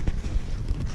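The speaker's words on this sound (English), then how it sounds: "But it's just really windy today." Strong wind buffeting a drone's microphone over a large body of water, a low, rumbling, gusty roar that swells and dips through the whole short moment without any talk.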